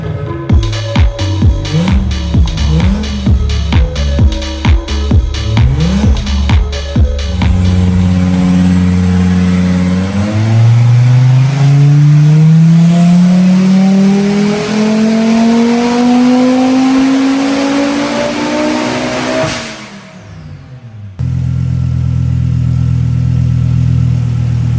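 Audi 2.5 TFSI five-cylinder fitted with racing cams on a test run: loud, close, choppy idle bursts, then a long sustained pull with rising pitch to a high-rev peak before it cuts off, followed by a steady drone.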